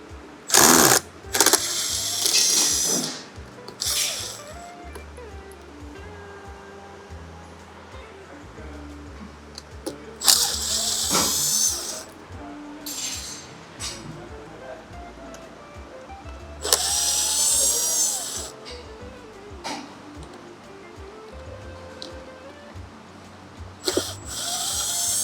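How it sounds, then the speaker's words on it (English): A Phillips screwdriver backs out radiator grille screws on an RX1E electric motorcycle, making short whirring and clicking bursts at close range with pauses between screws. "I'm going to use a Phillips screwdriver again on"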